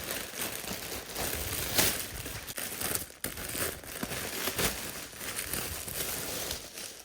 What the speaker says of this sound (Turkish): Ufak bir kargom vardı gelen onu da bir açalım